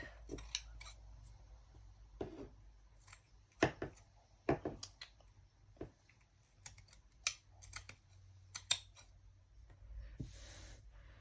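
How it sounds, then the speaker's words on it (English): Scattered sharp snips and clicks of scissors cutting cloth, irregular and close, with quiet pauses between bursts of cuts. "it makes a lot of racket with my scissors if I do that"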